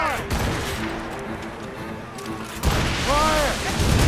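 Naval cannons aboard sailing ships in Assassin's Creed Rogue, firing in heavy booming volleys: a rumbling barrage early on, then a sudden loud blast joined by shouting voices and a crashing, rolling tail.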